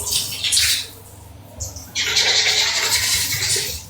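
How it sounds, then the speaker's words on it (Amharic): Shower water runs in a home bathroom, a hissing rush that surges in separate bursts and then settles into a longer, steady spray, close and fairly loud. "አሁን ሻወር ልውሰድ።"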